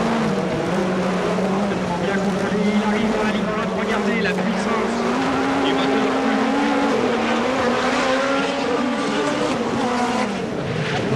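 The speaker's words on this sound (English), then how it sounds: "Hear the engine screaming as he comes down that bit of the straight, and then he brakes for that left-hander" A Peugeot 205 rally car at the 1988 Race of Champions screams down the straight. The engine wails loud and close, its pitch climbing and falling as it revs, with a commentator talking over it.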